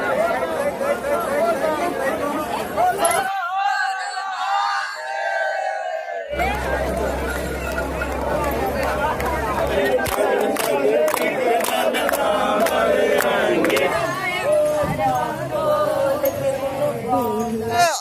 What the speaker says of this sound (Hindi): सुल्तानगंज में उत्तर वाहिनी गंगा के तट पर आप देख रहे हैं हजारों श्रद्धालुओं की भीड़